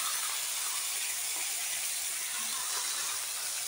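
Cooked vegetables are tipped into a hot pan for a Bengali vegetable dish. A steady broadband sizzle hisses evenly throughout, moderately quiet and unbroken, with no voices.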